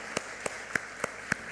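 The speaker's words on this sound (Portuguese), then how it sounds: "dá uma salva de palmas de Deus" Faint, steady clapping from a church congregation, about five evenly spaced claps over a quiet room, with no voices.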